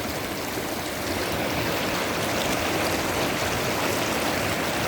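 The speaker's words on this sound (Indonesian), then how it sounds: "Sungainya jernih, dangkal, berbatu, gemericik." A clear, shallow, rocky river about seven metres wide babbles steadily, its dense broadband rush close and constant with no voices throughout.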